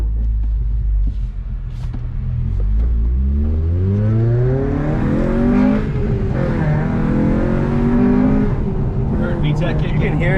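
Honda Civic engine revving hard inside the cabin, its pitch climbing steadily through the gears with a deep rumble, then rising sharply as VTEC kicks in and holding a loud, raspy high-rpm wail.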